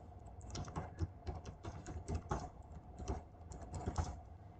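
Fingers tap out letters on a computer keyboard, quiet close clicks arriving in quick irregular bursts with short pauses between.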